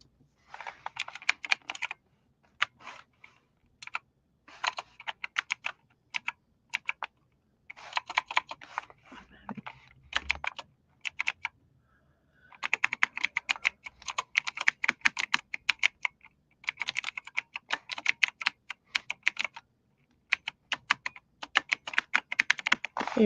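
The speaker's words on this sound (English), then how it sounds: "Let me try typing that in again." Rapid computer keyboard typing in bursts, close up, broken by short pauses between runs of keystrokes, with no talking.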